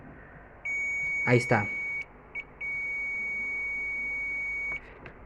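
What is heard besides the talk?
multimeter continuity test beep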